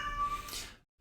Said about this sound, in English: I don't know if you hear the cat in the background.